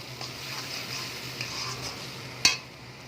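Masala for chicken kofta curry sizzles softly in hot oil as it is stir-fried, a steady low crackle with one sharp utensil clink near the end and no talk.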